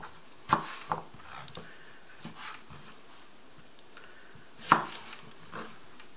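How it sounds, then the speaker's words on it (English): A knife chops peeled onions and garlic on a board, giving a few sparse, sharp close taps spread apart, with quiet gaps between them. "I have peeled the onions and the garlic, so let's start with chopping"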